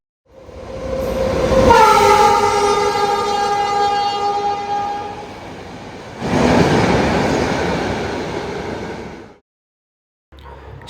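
A MEMU passenger train at a station near Dhanbad sounds a long, loud horn, then rumbles close by for several seconds before the noise cuts off.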